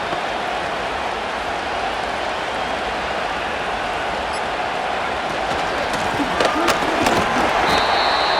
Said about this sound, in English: crowd into it now as we get to third down